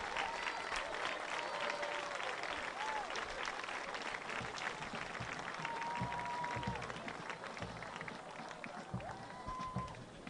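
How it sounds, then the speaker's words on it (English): Spectators in a football stadium on military night applaud service members with a sustained, distant roar of clapping, dotted with rising whistles and occasional shouts, easing slightly toward the end. "Let's give them a round of applause."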